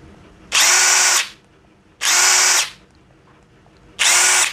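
Kamolee 700 Nm impact wrench runs in three loud, sustained bursts of about a second each, separated by short pauses, with no talking.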